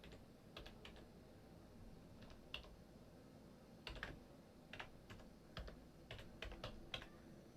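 Quiet typing on a computer keyboard, irregular bursts of key clicks spread through the stretch with pauses between, no voices.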